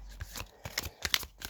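Energy oracle cards being shuffled by hand, a run of quick papery riffles and soft slaps close by with no talking.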